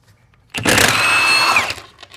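An impact wrench hammering at transmission bolts during a teardown of a 4L60E four-wheel-drive transmission from a 2005 Chevy Tahoe: a loud, steady burst of rattling impact lasting about a second, then cutting off abruptly.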